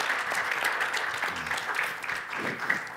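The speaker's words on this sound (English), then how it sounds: "let's end this great discussion with a big round of applause for this great panel" Audience applause rings out to close a conference panel discussion on populism and the EU, a steady, dense clapping that holds for the full stretch with a faint murmur of voices beneath.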